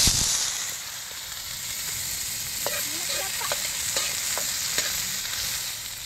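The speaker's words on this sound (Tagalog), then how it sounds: "Ilulunod na natin yung bawang, tsaka sibuyas, kamatis. Ayan, paghalu-haluhin na natin." Garlic, onion and tomato sizzle steadily in a hot pan, with scattered clinks and scraping as the mixture is stirred.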